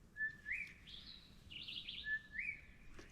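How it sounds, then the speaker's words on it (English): A southern boubou gives two clear, whistled calls a second or so apart, each a bright rising phrase answered by a quick higher note, standing out over quiet background hiss. "Now that's a southern boubou calling there"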